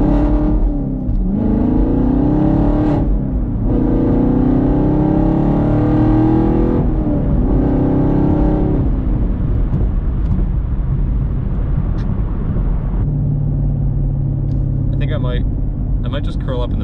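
A Chevrolet Camaro SS 1LE accelerating hard and breaking traction, its engine rising and falling in loud revving surges with tire scrabble, close by, while someone talks over it throughout.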